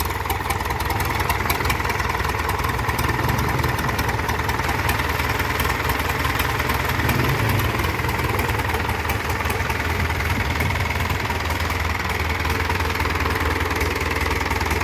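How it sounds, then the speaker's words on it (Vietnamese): A Yanmar 4JH marine diesel rated at 114 hp runs steadily on test for the full length, with a dense, even low rumble and a faint knocking texture and no voices. "Máy nổ rất lý tưởng nha."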